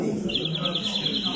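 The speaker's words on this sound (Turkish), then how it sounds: "dinleyin kuşu" A greenfinch sings a quick, repeated high chirping phrase over a steady background hum, fairly close and clear.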